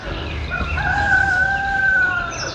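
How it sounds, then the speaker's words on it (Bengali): A single rooster crows once beside Mirik Lake, a clear drawn-out call at moderate distance, heard alone over quiet background. "মোরগের ডাক।"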